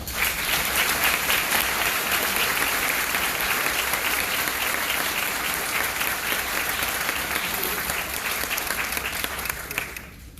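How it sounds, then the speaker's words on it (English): Audience applause for the staff at an elementary school fifth grade graduation, dense and continuous clapping from a large crowd that holds steady before tapering off at the very end. "we give the entire staff of Circleville Elementary School a nice round of applause"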